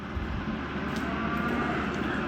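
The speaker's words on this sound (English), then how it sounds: "Oh, it's just my tractor." A steady tractor engine rumble drones throughout as it approaches, low and continuous, with no voices.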